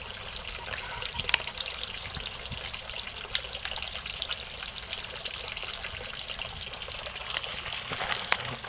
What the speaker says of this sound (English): What I did was I hooked up a hose so they have nice cold water.